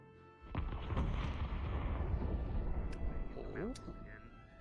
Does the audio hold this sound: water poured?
no